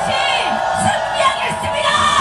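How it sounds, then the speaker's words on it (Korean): An outdoor political rally crowd for candidate Lee Jun-seok cheers and shouts together, a loud mass of voices with whoops rising over a continuous roar. "끊임없이 함성 주십시오."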